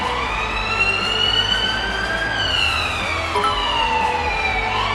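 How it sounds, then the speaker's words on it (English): A loud ambulance siren sweeps up and down steadily, a continuous wailing tone that sounds close and stands alone. "There's an ambulance sound"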